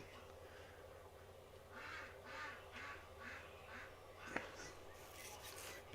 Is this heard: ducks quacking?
yes